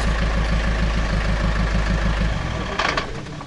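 A car engine rumbles steadily with a throbbing low idle while driving through the center of Chernobyl, then the pulse fades into broader road and clatter noise near the end.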